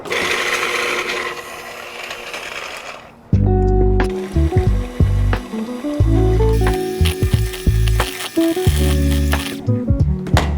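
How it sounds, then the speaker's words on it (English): An electric hand mixer whirs through chocolate muffin batter in a home kitchen, its motor buzzing in close bursts that start and stop, following a stretch of rustling noise. "Now I'm gonna mix it together, and I'm gonna use the electric hand mixer"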